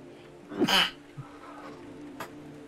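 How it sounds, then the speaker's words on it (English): One sharp sneeze bursts out near the start, loud and close, followed by a faint small sound and quiet room tone. "I'm gonna sneeze."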